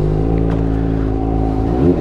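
A Kawasaki ZX25R fitted with an IXIL exhaust and its DB killer still in place revs close by, its high-pitched, raspy note holding steady and then shifting with a blip near the end.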